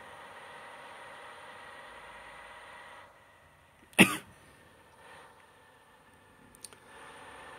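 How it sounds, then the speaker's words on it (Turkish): One sharp, loud cough bursts out close to the microphone against a quiet background of steady hum and faint clicks, with a few small clicks following. "Videoya öksürük sesim nasıl geliyor bilmiyorum ama."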